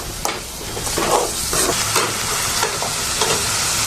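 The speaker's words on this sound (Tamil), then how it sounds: "தயிர் கூட நல்லா பச்சை வாசனை போகிற வரைக்கும் வதக்கி விடணும்" Curd with ginger garlic paste is sautéed in a pan, giving a loud, steady sizzle broken by repeated scraping stirs.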